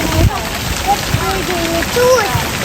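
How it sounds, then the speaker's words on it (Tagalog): Rain falling at San Josue Resort in Davao City makes a loud, steady patter and hiss close by, with voices speaking over it. "Look, it's raining."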